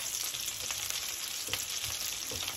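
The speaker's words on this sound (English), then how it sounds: "Give it a nice stir, nice mix." Chicken and mushrooms fry in a pan with a steady close sizzle, while a utensil stirs and scrapes through them in short, irregular strokes.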